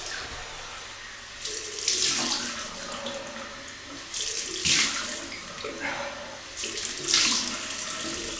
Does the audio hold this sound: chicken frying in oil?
no